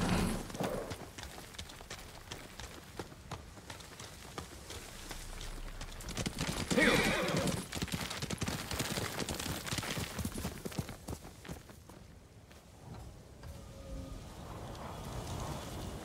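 Rhythmic hoofbeats of a horse galloping in a video game over a steady wash of rain-like noise, moderately loud, with a brief swell midway and a quieter stretch near the end.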